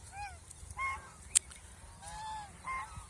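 Ducks on a duck farm give several nasal honking calls in short bursts, near and fairly clear, with one sharp click among them and a quiet yard background.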